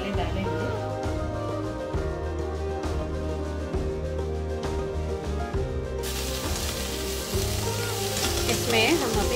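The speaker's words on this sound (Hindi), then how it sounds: "ये थोड़ी देर फ्राई होगा फिर सारे मसाले डालेंगे" Carrots and broccoli frying in a pan at home, a steady close crackling sizzle throughout with occasional stirring scrapes, faint background hum.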